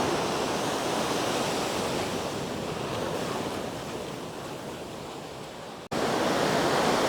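Waves wash onto a rocky beach at Thomas Beach in Bali, a continuous broadband roar of surf with wind buffeting the microphone, fading slightly before a brief dropout and a louder return.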